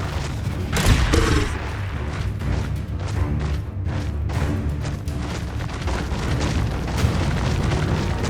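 Fiery spell blasts in Hogwarts Legacy: a loud boom near the start, then dense continuous rumbling bursts and crackles filling the rest, close and heavy without speech.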